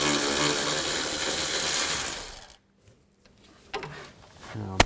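A ratchet spins out the last strut assembly bolt on a 2013–2018 Nissan Sentra front suspension, a loud, continuous whirring buzz for about two seconds that cuts off abruptly, followed by near silence and a few light clicks and handling knocks.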